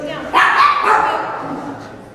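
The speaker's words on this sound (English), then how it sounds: "So with Romeo, we definitely need woof and shush" A dog gives a single loud bark-like yelp that trails off, close by during a dog training class, with a voice in the background.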